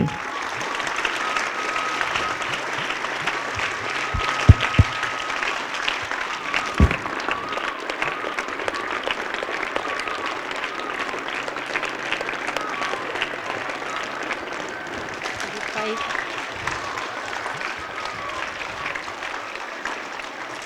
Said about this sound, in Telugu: Give a big clap for meditation.